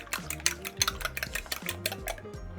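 A fork rapidly whisks eggs in a bowl for homemade pasta dough, a quick close series of clinking taps against the dish with no talking.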